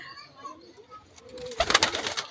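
Pigeons in a loft coo softly at close range, low rounded calls repeating over a quiet background, followed by a burst of wing flutter near the end.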